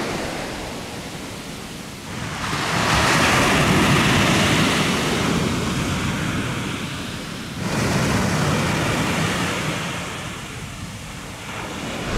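Waves on a pebble beach at Lloret de Mar break in two loud, hissing surges, each rushing up the stones and then drawing back, with wind noise throughout.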